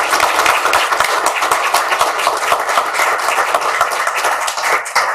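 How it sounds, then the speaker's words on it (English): Loud, dense audience applause at a peace prayer event in the US Congress, honoring a United Nations Under Secretary General, with many hands clapping in a sustained, even roar from start to finish. "you will give a very big round of applause"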